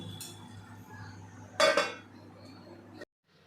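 A spoon scrapes and clinks against a pot and plate as a cooked vegetable dish with chickpeas is served out, a soft low hum under one loud metallic clatter near the middle, then a sudden silence.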